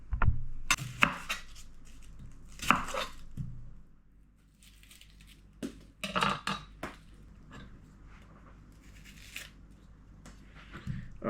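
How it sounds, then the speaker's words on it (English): A knife cuts through an onion on a cutting board in a home kitchen, making several sharp, crisp strikes with pauses between them, close by and with no talking. "Let's chop up the onion."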